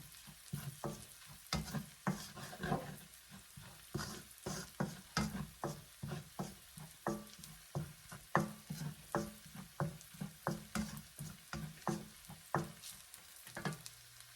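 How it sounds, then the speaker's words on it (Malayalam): Chili powder fries in oil in a pan for fish curry, a faint steady sizzle broken by regular scraping strokes of a spoon stirring, close and unhurried, with no talk. "എപ്പോഴും ഇത്തിരി ഇതൊന്ന് മുളകൊന്ന് മൂപ്പിക്കുന്നത് നല്ലതാണ്"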